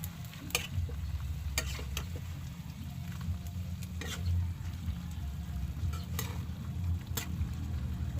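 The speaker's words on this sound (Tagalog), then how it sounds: "Haluin na natin." Chicken gizzards and string beans with soy sauce being stirred in a pan, a soft ongoing sizzle broken by sharp utensil taps and scrapes against the metal at irregular intervals.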